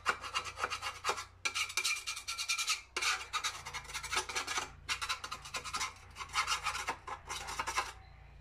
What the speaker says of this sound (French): je vois que je peux pas passer la spatule, j'y passe le tournevis